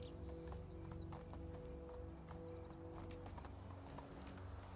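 Hooves of a ridden horse in the video game Medieval Dynasty clip-clop in a quick, steady rhythm, soft and continuous, with a faint whinny-like tone in the background.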